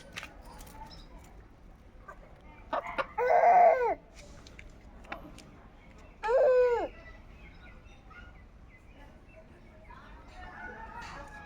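A chicken being chased squawks loudly in two sharp, frantic bursts a few seconds apart, with quieter background noise and faint voices in between.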